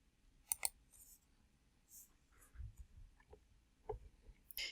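A computer mouse gives scattered crisp clicks, a few single and double taps spread out over quiet room tone.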